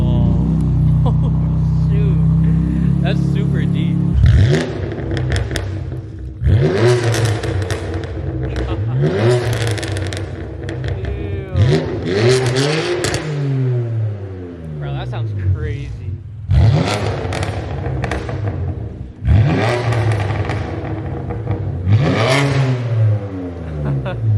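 A BMW F80 M3 fitted with an Ark Performance DT-S exhaust revs repeatedly, each rise climbing sharply and falling away in a rasping roar over a rumbling idle between blips, with people talking in the background.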